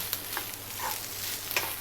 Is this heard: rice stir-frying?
yes